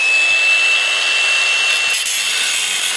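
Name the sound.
cutoff wheel cutting work truck bumper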